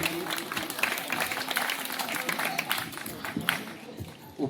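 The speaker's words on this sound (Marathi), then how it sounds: "खरंच त्याच्या हिमतीला जरा जोरदार टाळ्या होऊ दे." Audience clapping and cheering at a lavani dance competition during a Maghi Ganeshotsav celebration in Ratnagiri, a dense, moderately distant burst of applause with crowd voices mixed in.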